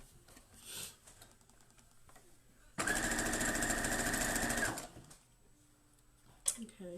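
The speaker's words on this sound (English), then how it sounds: "So then we're going to sew these back together." A sewing machine stitching quilt patches together runs in one steady, rapid mechanical burst of about two seconds, close by. A voice speaks briefly in the quieter moments before and after.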